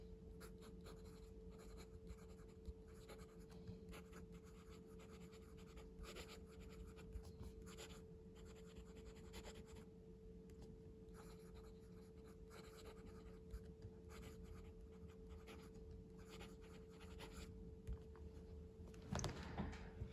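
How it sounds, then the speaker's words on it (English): Benu Euphoria fountain pen nib writing on paper with Diamine Oxford Blue ink, a faint, continuous scratchy scribble of strokes over a quiet room hum for twenty seconds. "this pen writes pretty much flawlessly"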